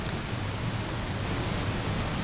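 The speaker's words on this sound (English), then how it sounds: "I'm going to switch over to pink noise." Pink noise test signal used in a demonstration of decibels and loudness: a steady, unbroken hiss spread across the whole range, heavier in the lows, holding an even level throughout with nothing else heard.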